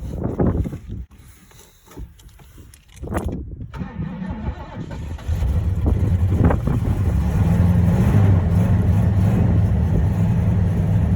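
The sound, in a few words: vintage vehicle engine running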